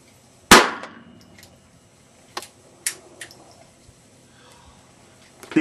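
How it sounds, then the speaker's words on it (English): A gunshot at a shooting target cracks out sharply and loudly, followed by a few fainter, spaced pops against quiet outdoor background. "That's Usama bin Laden we're shooting at."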